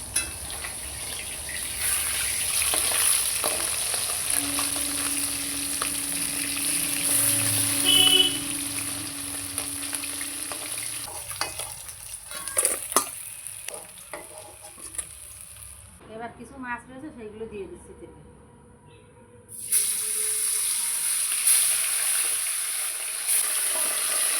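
Bata fish fries in a pan with a soft, steady sizzle that comes and goes, with clinks and handling noises, a brief quieter stretch, then the sizzle returns.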